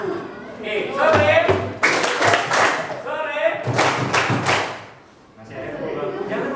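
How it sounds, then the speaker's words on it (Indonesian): A classroom of students claps hands and thumps on desks in several loud, close bursts, mixed with chatter, while a teacher speaks between them. "Masih ada tepuk bangku. Jangan tepuk bangku. Tepuk tangan."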